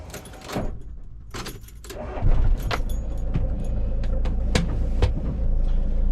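Cabin noise inside a 1998 Renault Kangoo 1.9 litre diesel van on the move: a low engine and road rumble that swells as it pulls away, with repeated jangling and rattling clicks near the listener and no talking.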